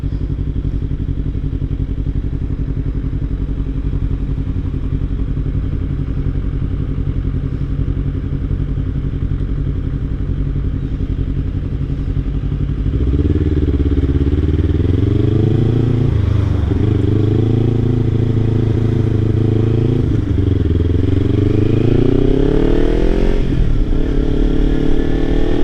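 A Kawasaki Ninja 300 ridden on the road, its engine a steady low hum at first, then revving up and down through gears in rising and falling sweeps, close and loud with wind noise.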